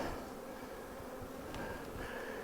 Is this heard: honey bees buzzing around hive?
yes